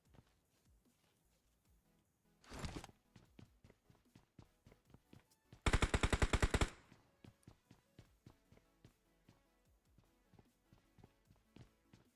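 Rapid gunfire bursts during a video game tournament grand final match: a short loud volley, then a longer dense burst of rapid shots, with faint footstep-like taps throughout and no talk.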